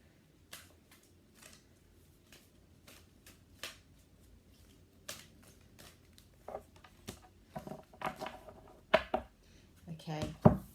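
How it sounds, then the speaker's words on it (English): Tarot cards riffle and snap in short bursts, growing busier and louder toward the end, with quiet background noise between shuffles. "One more shuffle. Another card."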